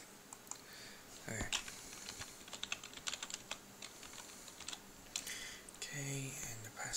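Keys clatter on a computer keyboard as a password is typed, a run of quick, fairly close clicks with brief pauses and a couple of louder taps, and some faint talk in between.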